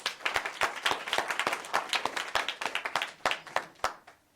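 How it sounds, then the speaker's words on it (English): A small audience at a personal finance and wellness event claps, sparse, distinct hand claps in an uneven rhythm, fairly close, tapering off to the last few claps. "Let's give him a round of applause."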